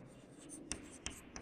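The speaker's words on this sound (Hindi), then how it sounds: "अब हम लिखेंगे" Pen or chalk writing during a grade 6 algebra lesson: soft scratching strokes with three sharp taps, quiet, with a faint room hum.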